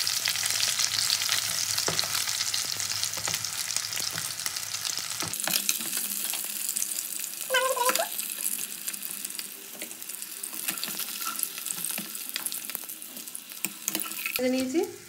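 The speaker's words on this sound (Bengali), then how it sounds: "খুব ভালো করে মাছগুলোকে ভেজে নেব" Pieces of rui fish fry in hot oil in a wok, giving a steady, crackling sizzle with occasional stirring and spatula clinks, close and continuous with no talk.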